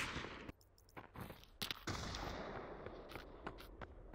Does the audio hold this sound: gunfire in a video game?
yes